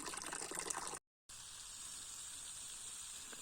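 Water rushes into a 200 m micro hydro pipe as it fills, giving a steady, fairly faint hiss with one brief dropout to silence before the flow noise resumes.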